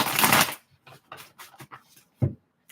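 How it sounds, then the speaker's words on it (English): Tarot cards being shuffled by hand, a loud riffle burst followed by several short taps and shuffles, close and clear with no talking. "I'll shuffle the cards and see what comes out for Luke."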